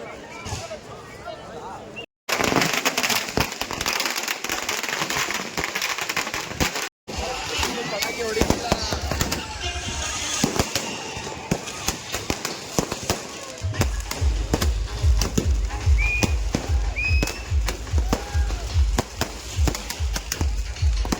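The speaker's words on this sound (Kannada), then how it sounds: "ಸಾಲಕ್ಕೆ ಪಟಾಕಿ ಕಚ್ತವ್ರು ಇಲ್ಲಿ" A long string of firecrackers pops in dense, rapid bursts, loud and close, with voices talking underneath, during a Ganesh idol immersion procession.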